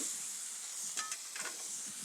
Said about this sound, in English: This steam is gonna help melt that cheese better than any salamander putting it under the broiler